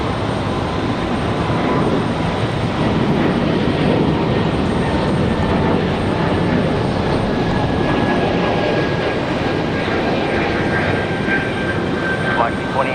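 A Breeze Airways airliner takes off with an early rotation at Raleigh-Durham International, its engines a loud, steady broadband roar that holds for the whole stretch with a faint rising whine, and voices talk over it.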